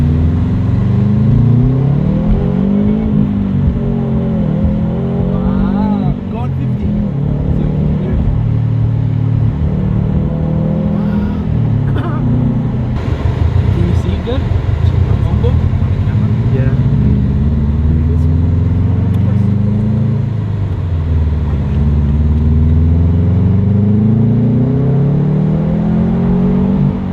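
A Subaru fitted with a Tomei Expreme Ti titanium exhaust revs and rumbles loudly, its deep engine note rising and falling in repeated swells, with people talking over it throughout.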